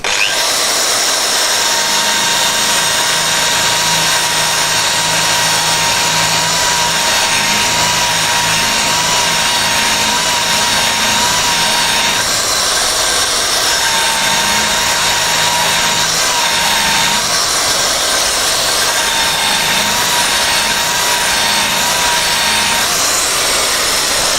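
A square stainless steel tube is brushed with a coarse non-woven abrasive on a power tool, giving a loud, continuous whirring grind that holds steady for the whole stretch with slight shifts in pitch.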